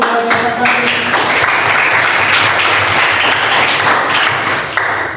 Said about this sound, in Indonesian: Tepuk tangan untuk pembelajaran kami.